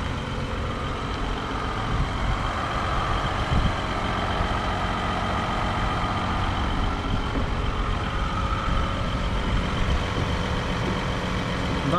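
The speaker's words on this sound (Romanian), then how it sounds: "motorul ăsta e mult mai silențios față de al meu, cu cât că e nou" An Audi A6 C8 engine idles quietly, a low steady hum with faint background rumble and no voices, even and unchanging throughout.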